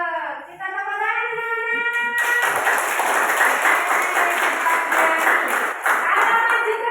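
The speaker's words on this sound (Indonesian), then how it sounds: "Kita tepuk tangan." Classroom applause as a group of students claps hands together, a dense steady burst of many hands that starts after a brief lead-in of other sound and continues loudly to the end.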